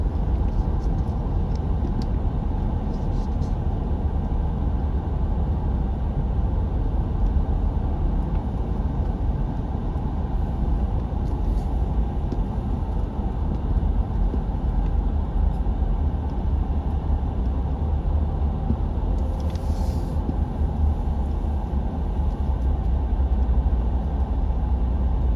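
Car driving through downtown Fort Worth, Texas, heard from inside as a steady low engine and road rumble with constant tire noise, no talking.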